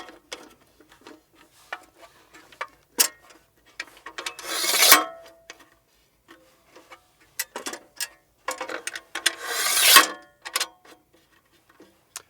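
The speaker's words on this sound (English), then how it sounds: "Carefully turn the knobs on each tripod leg counterclockwise while holding the top portion of the tripod, letting the legs drop and extend." Legs of an LRAD 100X tripod being loosened and dropped out to full length, heard as scattered close clicks and ticks with two longer rasping slides of metal telescoping down, and no speech.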